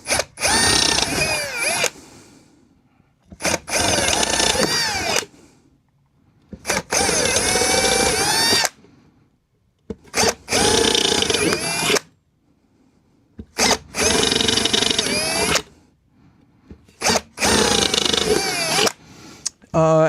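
Power drill boring holes into an amplifier chassis during a build, six long high-pitched whining bursts of about two seconds each with brief quiet gaps between, close and loud.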